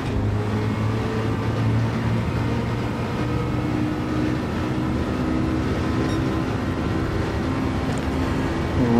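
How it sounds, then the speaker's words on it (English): Gr1 prototype race car engine in a racing video game, nitro boost engaged on a rain-affected track, a loud, steady, close engine drone with a sustained tonal whine that holds throughout without pause, no voices. "Let me shove the nitro on."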